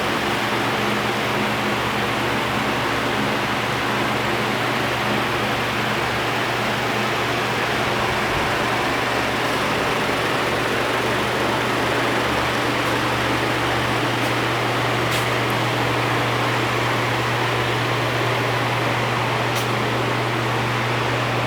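A 1969 Ford Torino GT with a 351 Windsor V8 and a 2.5-inch Dynamax muffler idles with a steady, low engine rumble droning on evenly throughout, with a constant hum and no talking.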